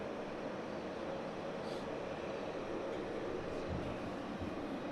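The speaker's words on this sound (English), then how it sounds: "One of the best things about having the ATR parked right in front of us, guys, is the startup sounds" An ATR turboprop airliner parked on the apron at Southend Airport starts its engines, producing a steady, loud broadband roar that holds without a break from start to finish.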